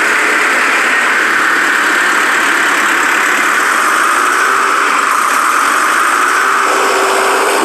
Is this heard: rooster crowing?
no